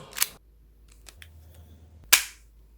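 A Marushin COP 357 four-barrel gas airsoft derringer firing 8mm BBs: two sharp, loud gas shots about two seconds apart, with faint mechanical clicks between them and no voices.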